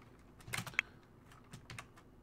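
Fingers typing a name on a computer keyboard, a short run of quiet, close key taps in two small clusters with a pause between them, nothing else audible.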